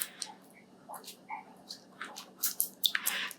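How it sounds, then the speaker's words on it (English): Soft wet squishing and dripping as a homemade natural anti-ageing face cream mixture is stirred in a bowl, a close, quiet series of irregular slick clicks and squelches with no talking. "So we just kind of stir till it's nice and clear again."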